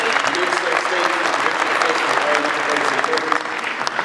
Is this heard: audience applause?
yes